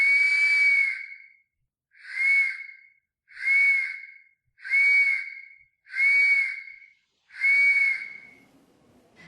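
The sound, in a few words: Mesoamerican effigy whistling vessel sounding three whistles simultaneously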